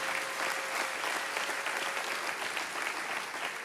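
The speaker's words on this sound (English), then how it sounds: "that's worth giving Jesus a round of applause for" A church congregation breaks into a dense, sustained round of applause, many hands clapping together at even loudness throughout with no voices standing out.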